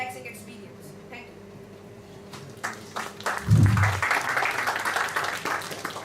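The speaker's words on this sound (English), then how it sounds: "please give a thunderous round of applause to all my assignees" An audience at a Toastmasters youth meeting breaks into applause, clapping rising suddenly and continuing steadily after a moment of a voice speaking.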